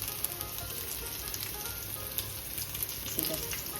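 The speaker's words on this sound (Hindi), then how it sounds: "इस तरह से फ्राई कर लेंगे इसी तरह से।" Taro leaves frying in oil in a pan for a Bihari-style mustard curry, giving a steady, close, continuous sizzle with small crackling pops throughout and no talk.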